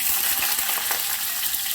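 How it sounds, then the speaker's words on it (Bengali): Chopped garlic and green chilies sizzle steadily in hot mustard oil in a kadai, a dense, continuous crackle close up with no voices. "রসুন কুচি আর কাঁচা লঙ্কা কুচি দিয়ে দিলাম তেলের মধ্যে"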